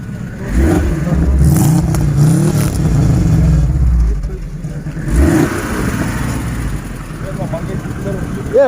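A car engine revs up at a used car market, loud and rough with rising surges, heard alongside people talking nearby.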